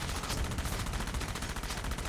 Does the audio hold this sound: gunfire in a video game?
yes